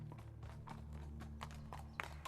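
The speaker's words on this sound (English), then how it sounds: "hearing a horse's hooves ring on the stones outside" A horse's hooves ring on stones outdoors, a run of sharp, fairly close clip-clop strikes at a walking rhythm over a low, steady hum.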